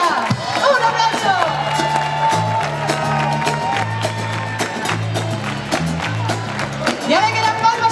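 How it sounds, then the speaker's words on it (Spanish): A festival concert crowd applauds and cheers for the drummer, with scattered clapping and whoops under a looping bass-heavy band groove, while a singer speaks over the music. "¡Un aplauso!"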